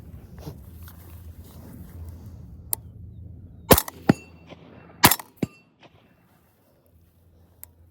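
Suppressed rifle shots through a CMMG Zeroed suppressor firing 105 grain rounds: a few sharp, loud cracks close by, two main reports with quick echoes and clatter, over low background rumble that fades to near silence.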